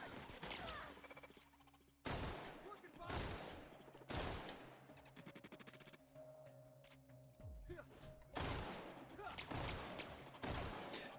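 Rapid bursts of gunfire from a weapon in the video game The Outer Worlds, loud repeated volleys separated by brief pauses, with a voice speaking between shots.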